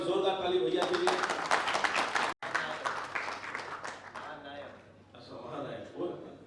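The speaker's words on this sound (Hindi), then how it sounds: "एक बार जोरदार ताली भैया के लिए।" Enthusiastic crowd applause for Bhojpuri actor Ravi Kishan at a film-industry New Year gathering, with clapping running beneath loud voices and a brief cut partway through.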